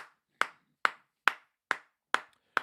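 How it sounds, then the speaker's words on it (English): A single person claps at the full-time whistle of a Wolves versus Arsenal match watch-along, six sharp, isolated claps at a slow, regular pace, close and dry with silence between each. "Round of applause, people."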